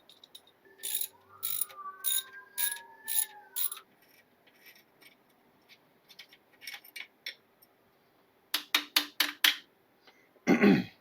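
A ratchet wrench loosens car alternator bolts of 15 mm and 13 mm, giving bursts of rapid, close clicking in short strokes with pauses between them, plus a faint squeak and a metallic clank at the end.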